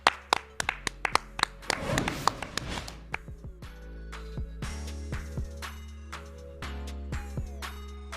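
Scattered hand claps at the close of a sports talk show, sharp separate claps with a brief denser burst of clapping, fairly faint overall.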